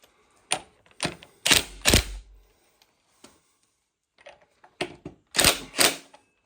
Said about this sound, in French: Avec la clé à choc automatique, c'est bien parce que ça gère le couple.